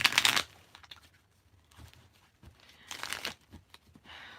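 Tarot cards shuffled by hand in two short papery bursts, one at the start and another near the end, with quiet pauses between and no talking.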